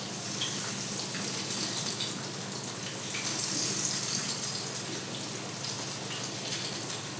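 Green tomatoes fry in peanut oil with a steady, dense sizzle and bubbling that holds constant throughout, close and fairly loud.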